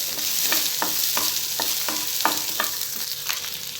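Green chillies and cashews sautéing in a pan, a continuous close sizzle overlaid with a regular rhythm of about nine quick spatula strokes scraping the pan, no voices present.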